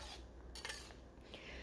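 A utensil stirs a simmering pan of sweet-sour dori fish sauce with spring onion, giving a few quiet metallic clinks and scrapes over a low background hiss.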